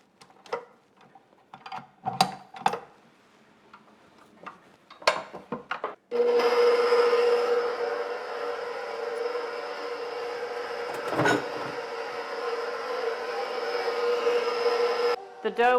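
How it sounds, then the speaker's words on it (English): A stand mixer with a dough hook kneads pizza dough in a mixing bowl, starting with a few scattered clicks and knocks, then settling into a steady, loud mechanical whir that runs unbroken to the end. "I touch my mixing bowl, and I'm going to use my dough hook for this."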